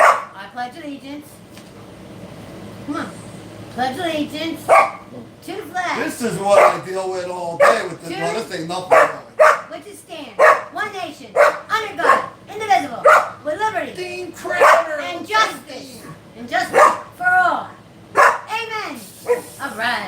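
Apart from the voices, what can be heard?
dog barking and howling along with someone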